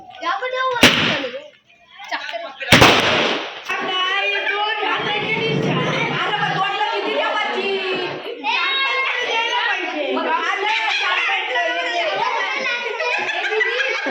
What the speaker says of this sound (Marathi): बाहेर बघा आमच्या कलाकारांनी फटाक्यांची आतषबाजी केलेली आहे